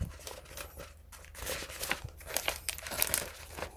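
Thin plastic wrapping around a toy play mat crinkles and rustles steadily, close and fairly loud, with sharper crackles near the end; no talking.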